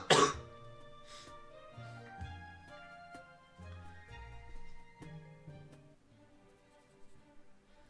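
A single sharp, close cough bursts out at the very start, with a throat-clearing quality, then gives way to soft, steady tonal background music.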